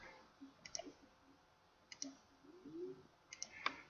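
An auto clicker program drives a computer mouse, producing sparse, faint, close clicks in small clusters separated by quiet gaps, with a low muffled rustle underneath and no speech.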